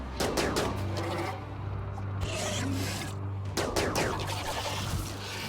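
Rapid bursts of gunfire from a RimWorld colony battle crackle in dense volleys, with sharp shots clustering near the start and again past the midpoint over a steady mechanical drone.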